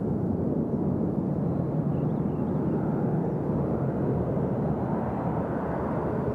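A Sun Country airliner at Nashville International Airport gives off a broad, distant jet roar that holds steady and fairly faint throughout, with no talking.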